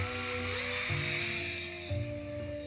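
A high, whining power drill runs steadily, drilling into a pumpkin, its pitch shifting slightly as it bites in and eases off, loud and close with no voices.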